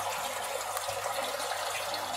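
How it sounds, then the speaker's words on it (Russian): An aquarium airlift pumps water in a fish egg incubator, making a constant close bubbling gush of running water with no speech. "вот работает кислород, это аэрлифт."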